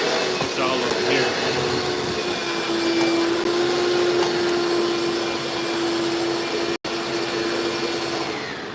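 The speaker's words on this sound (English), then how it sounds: "I think the vacuum's running." A vacuum cleaner runs steadily nearby during a livestream, giving a continuous even drone with a faint steady whine that holds throughout, broken only by a brief dropout near the end.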